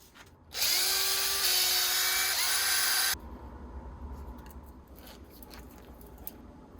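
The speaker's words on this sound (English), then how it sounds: "You basically just got to remove these 3 screws" A small electric screwdriver backing screws out of an Arrma Infraction 4x4 3S BLX RC car's motor module, a loud high whine for about two and a half seconds with a brief pitch dip, then quiet handling noises.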